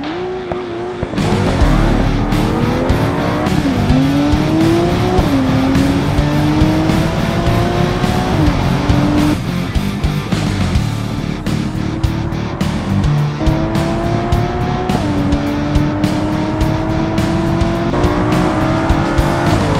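Two cars, an ETK800 Series 1 and an ETK K, drag race over a quarter mile in BeamNG.drive, engines roaring loudly and steadily with repeated rising revs and gear-change drops, tire squeal mixed in, no talking.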